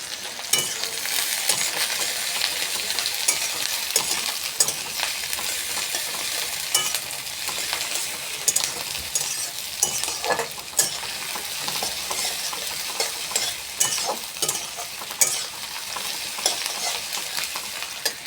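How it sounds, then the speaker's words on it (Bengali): Chilli seeds popping and spattering as spices fry in a pan for a chicken dish, a dense continuous crackle with scattered sharper snaps, close and fairly loud. "এই লঙ্কার দানা ছুটতে চলে আসছে।"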